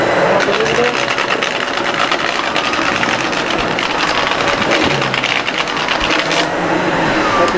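A SEBO Felix upright vacuum cleaner running on carpet gives a loud, steady motor whir with brush clatter and rattling as debris is picked up, close by, with a voice partly over it.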